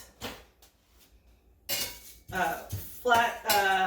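Flat utensil scraping and clinking in a pan where cinnamon and cayenne roast, short metallic knocks and stirring strokes up close, with voiced talk breaking in over the second half.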